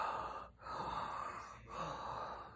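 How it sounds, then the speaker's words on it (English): Heavy breathing from a man just after a workout, two slow cycles of loud, rough inhales and exhales with short pauses between, close and alone with no talk. "You can hear him in the background doing his breathing."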